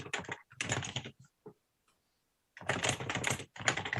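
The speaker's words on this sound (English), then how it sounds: "some of these keyboards really loud" Fast clattering typing on a loud computer keyboard connected to a CoCo 3 computer, close and dense in two long bursts separated by a near-silent gap with a few isolated key taps.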